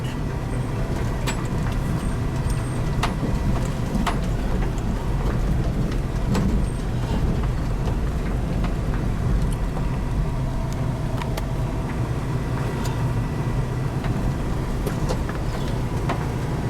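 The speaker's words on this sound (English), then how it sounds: "Even my van very carefully drive through this muddy and rough road" Interior rumble of a van creeping carefully along a muddy, rough, potholed road, a loud steady low drone of engine and tyres with scattered knocks and rattles from the bumpy surface.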